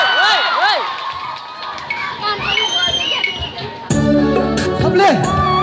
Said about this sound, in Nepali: सम्पूर्णलाई ताली है